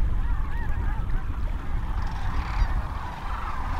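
Migrating cranes rest on the Platte River in Nebraska on a cold morning with ice on the water, their overlapping calls rising as a continuous distant flock chorus with a few nearer bugling notes.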